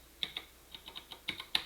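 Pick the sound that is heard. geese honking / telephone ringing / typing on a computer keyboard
typing on a computer keyboard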